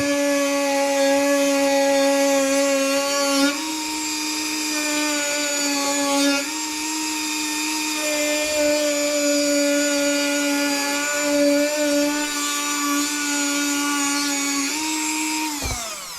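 A grinder wheel whines steadily as it cuts and shapes a dry carbon front splitter for a Mustang GT350R, a loud, sustained high-pitched tone that shifts pitch slightly under load and winds down at the end.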